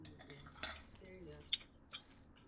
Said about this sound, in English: So keep stirring it together.